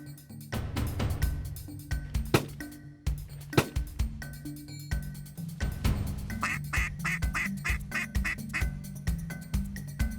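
Ducks quack repeatedly in a busy, overlapping chorus near a pond and decoy spread, loud and close with rapid bursts of calls throughout and no talking.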